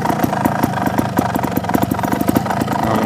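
A motorcycle engine idles with a steady, close, rhythmic chugging thump, its pulses evenly spaced and loud throughout, with no voices over it.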